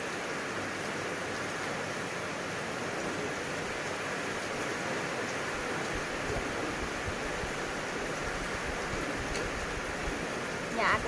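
Rain pours all day in rural Thailand, an unbroken, even hiss of rainfall that stays at a constant level throughout, with nothing else standing out.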